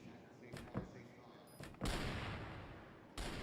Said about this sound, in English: Some shots out here.